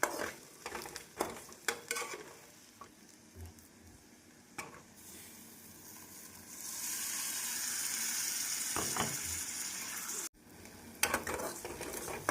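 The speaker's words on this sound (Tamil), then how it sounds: "நாம் தக்காளி பழம் சேர்த்து நன்றாக வதக்க வேண்டும்" Ground tomato sautéing with coriander powder in a pan, with scattered clinks and scrapes of a stirring spoon, then a loud steady sizzle swelling up and running on, close by with no speech.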